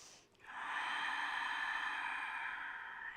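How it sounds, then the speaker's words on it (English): One long, steady breath is drawn and held as a soft airy rush during a Pilates exercise, close and fairly quiet, after a short pause. "Breathe."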